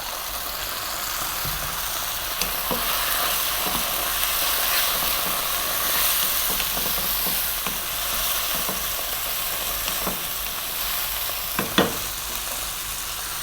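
Fresh tomato sizzles in hot oil with garlic ginger paste and fresh chilies for a fish curry: continuous close frying crackle, with occasional stirring clicks and pops from the pan.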